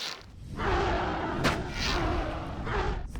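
Dragon fire in RLCraft, the heavily modded Minecraft game, a loud sustained roaring blast with a sharp thump around the midpoint, dense and continuous throughout without a break.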